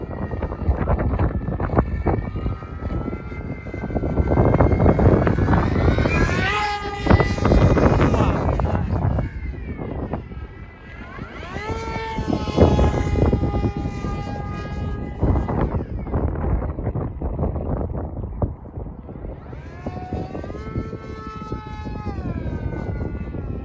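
The electric motor of an FT Flerken RC plane at 15% throttle whines with a wavering pitch as the aircraft passes, mixed with wind rush and occasional talking.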